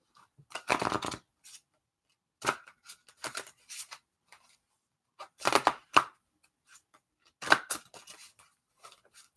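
Tarot cards shuffled by hand in separate crisp bursts spaced a few seconds apart, close and dry with silence between, no talking.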